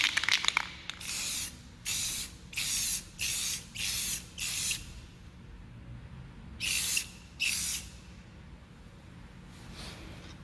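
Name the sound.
spray paint can spraying paint onto a bike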